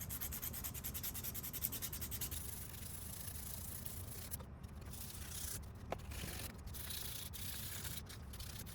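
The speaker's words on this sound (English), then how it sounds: "now I'm gonna get started on sanding these. I'm just gonna give them a nice sand" Steady, continuous rubbing and scraping of sandpaper on small wooden fishing lures, close and even in rhythm, with brief pauses and no talking.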